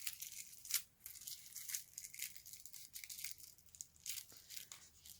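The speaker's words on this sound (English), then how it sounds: "I've got a few bits of paper that I've obviously peeled off in places" Paper being slowly peeled away from a craft frame, a floating frame with a printed bird pattern, giving soft, quiet tearing and crinkling rustles that come in uneven bursts, close up with no talking.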